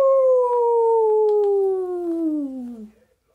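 A human voice imitates a wolf howling in a single long, clear call that slowly glides downward in pitch and then cuts off, loud and close with nothing else around it.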